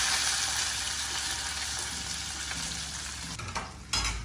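Finely chopped onions frying in hot oil while tempering for a South Indian brinjal mash, a steady loud sizzle that holds throughout and then flares up sharply near the end.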